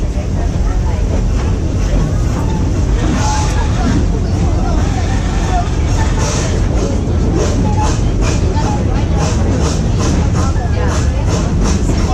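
Busch Gardens park train ride, a steady low rumble of rolling wagons filling the whole stretch with a constant mechanical roar, while a murmur of voices and chatter from riders runs underneath.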